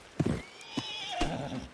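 A horse in a video game whinnies in shrill, wavering neighs with a few hoof clops mixed in, moderately loud, against a faint background and with no speech.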